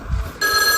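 A mobile phone starts ringing abruptly, a loud, bright electronic ringtone cutting in after a brief moment of low background noise.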